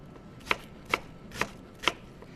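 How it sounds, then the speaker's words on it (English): A knife chops onions on a cutting board with four crisp, evenly spaced knocks, close and fairly quiet over faint room noise. "we're going to run our knife through it"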